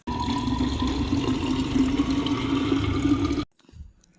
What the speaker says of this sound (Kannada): ನನ್ನ ಬಾಟಲ್ಗೆ ನೀರನ್ನ